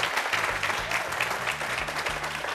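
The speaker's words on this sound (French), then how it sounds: "Amis jeunes, applaudissez-vous très fort." A young studio audience on a televised youth talk show claps loudly and continuously, a dense burst of applause with faint voices mixed in.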